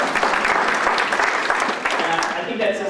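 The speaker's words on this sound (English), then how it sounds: "Clap for yourselves because you're here." Forum audience clapping for themselves, a steady, loud wash of applause from many people with crisp individual claps throughout the short stretch.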